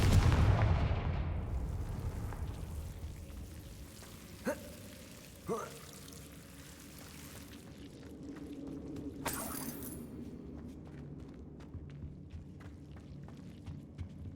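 Explosive blasts of the Confringo spell in Hogwarts Legacy gameplay: a heavy burst at the start decaying into rumble, followed by a few sharper cracks and a bright crackling impact, over ambient game sound.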